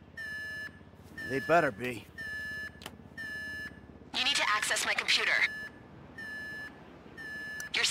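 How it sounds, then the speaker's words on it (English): In the GTA V bank raid mission, a tripped alarm beeps in rapid repeating bursts, with game characters talking loudly over it. "The alarm's been tripped."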